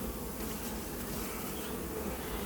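Dense swarm of honeybees buzzing steadily and loudly around a full hive during an inspection, frames packed with honey, a continuous close drone with no talk.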